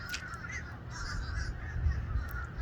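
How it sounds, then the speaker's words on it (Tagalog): Jays call in a small garden, a few harsh, raspy squawks over a low, rumbling background, moderately near and fairly quiet. "Daming birds mga jay."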